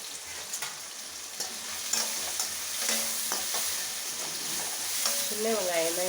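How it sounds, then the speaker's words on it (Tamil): Small onions with salt fry in a pan, giving a steady crackling sizzle with light stirring scrapes, moderately close, and a brief whistle-like tone near the end, with no talk. "கொஞ்சம் 2 சின்ன வெங்காயத்தை கட் பண்ணி போட்டுருக்கேன். அது நல்லா கொஞ்சம் வதங்கட்டும்."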